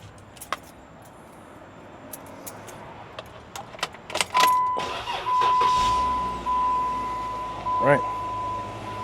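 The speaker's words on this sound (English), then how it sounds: "And let me turn on the car." A Jeep's engine cranks and starts about halfway through, preceded by keys jangling and clicks, then settles into a low steady idle with a thin electronic beep tone running over it.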